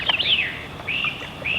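Eastern kingbird, a flycatcher nesting in marsh trees at the edge of a slough, gives three sharp, high buzzy calls in quick succession, close and clear with no voices.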